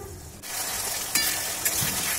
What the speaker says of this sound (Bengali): মশলাটাকে বেশ অনেক সময় ধৈর্য সহকারে একটু কষিয়ে নিতে হবে